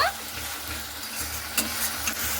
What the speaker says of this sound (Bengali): এরপরে টমেটো পেস্টটাকে দিয়েও খুব সুন্দর করে এইভাবে নাড়াচাড়া করে নেব।